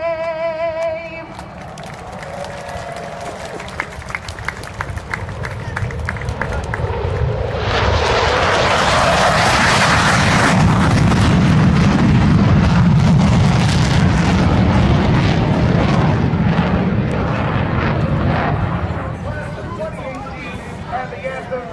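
Two F-15 fighter jets pass over an Air National Guard base air show, a loud broad jet roar swelling in and sustaining for many seconds, heard with a crowd in the background.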